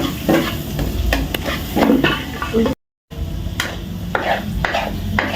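Garlic, onion and carrot sautéing in a pan, with steady sizzling and frying plus repeated stirring scrapes throughout, loud and close, broken by a brief gap partway.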